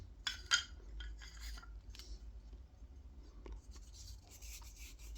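Hands rub oil into a hand-carved wooden eating spoon with kolrosing decoration, a soft, close, dry rubbing and scraping with faint brief knocks, quiet and alone.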